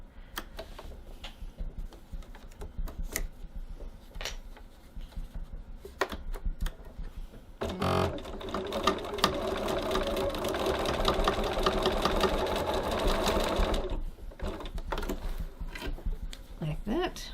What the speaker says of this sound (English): now I'm just going to stitch across my strap